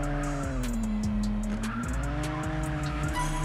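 A game car drifts with its tires squealing in a mobile open-world racing game. Its engine drones loudly and steadily, the pitch dipping and rising as the tires screech in repeated bursts, and no one speaks.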